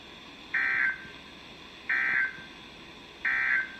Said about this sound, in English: this has been a test of the NOAA weather radio warning alarm and EAS signal